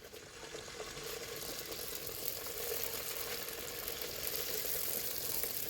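Food frying in hot oil for a simple homemade breakfast, a steady soft crackling sizzle that holds evenly throughout, fairly quiet and with no talking.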